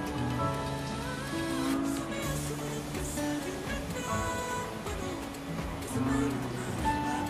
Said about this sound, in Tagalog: Umuulan na guys, ang lakas.